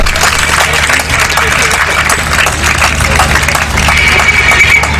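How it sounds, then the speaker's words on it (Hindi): Sustained applause from an audience at a college panel event and prize ceremony, a loud, even wash of many hands clapping throughout, with some voices mixed faintly beneath. "वो बेचारे खुद अपने लिए तालियां बजा रहे हैं"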